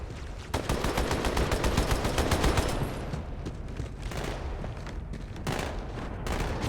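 Turret machine gun blazing in Halo 2 on Cairo Station, loud rapid-fire bursts hammering almost continuously, with a short pause before firing resumes.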